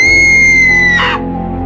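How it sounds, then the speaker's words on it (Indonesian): A sustained, piercing wail from a horror story scream effect holds steady for about a second, then breaks into a brief harsh burst before trailing off over a loud, droning background. "Tetapi justru terdengar suara jeritan yang tidak karuan di dalam"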